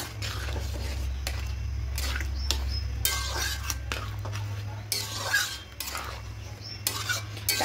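Thick lentil dal with tamarind pickle is stirred in a pot, with repeated scraping and clinking of a spoon against the metal under a steady low hum.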